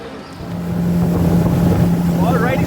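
A boat motor drones steadily on the Amazon River, loud and close, with heavy wind buffeting the microphone and a voice faintly audible over the engine.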